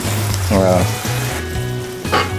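Tofu teriyaki sizzles and crackles on a hot sizzling plate, topped with spring onions. A steady frying hiss runs throughout, close and fairly loud, under some voiced sound.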